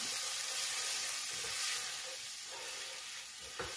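Whole spices sizzle steadily in hot oil while being stirred, a continuous bright frying hiss with a few soft scrapes of the spoon near the end, close and alone.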